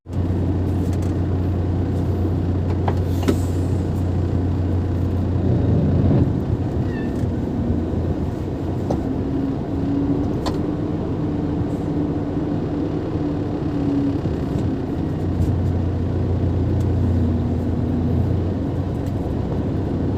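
Truck engine idling and rumbling steadily while the truck backs up at a worksite with a pickup and a generator, a loud continuous low drone throughout with a few faint clanks.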